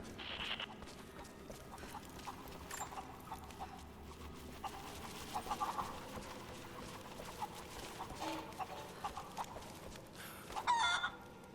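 Chickens in Rise of the Tomb Raider cluck and cackle softly in the distance over a muted village ambience, with intermittent calls and a louder flurry near the end.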